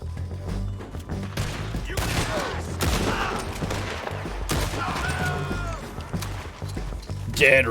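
Gunfire in the video game Red Dead Redemption 2, a rapid fusillade of sharp shots and booming reports with a horse's hooves nearby, under someone talking excitedly.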